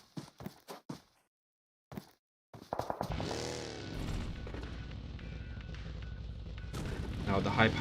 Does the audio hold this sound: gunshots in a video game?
yes